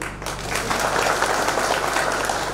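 An election rally audience for a cooperative sugar factory board vote claps together in sustained, dense applause, close and loud, with faint crowd murmur underneath.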